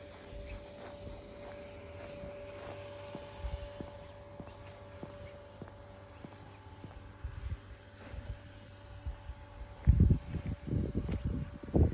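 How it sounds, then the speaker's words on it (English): A low steady mechanical hum with a faint tonal drone from a running bioseptic treatment system throughout, joined near the end by louder rumbling bursts close to the microphone. "Sorry about that noise, that's our bioseptic working there,"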